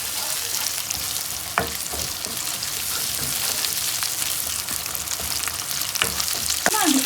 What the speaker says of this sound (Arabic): بعد الزيت بتاعي ما سخن يا حبايبي، هنزل بالبصلايه الاول